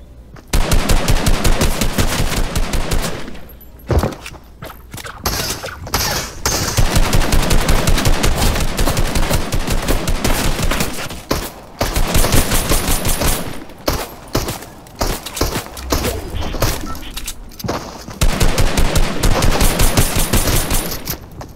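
Rapid bursts of automatic gunfire in Fortnite, loud and close, firing in long sustained volleys broken by short pauses over about twenty seconds.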